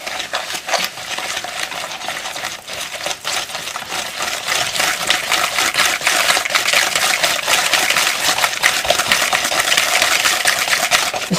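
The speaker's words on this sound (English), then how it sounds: "I'm just going to beat well, really incorporate. I'm going to use it with a wire whisk." A wire whisk beats eggs and vanilla extract in a bowl, producing rapid, continuous clicking and scraping strokes that stay close and fairly loud throughout, with no talking.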